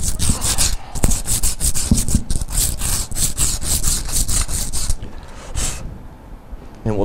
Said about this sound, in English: we'll get our emery cloth, and we'll just clean it up, get some of the crud off it.